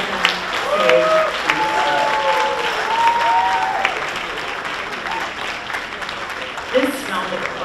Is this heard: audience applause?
yes